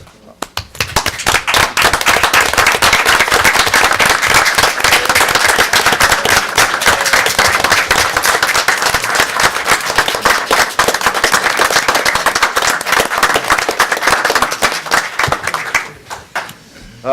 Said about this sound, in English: I wish that you would join myself and Fire Chief Mike Stratton in welcoming and congratulating our new Deputy Chief, Jeremy Snyder.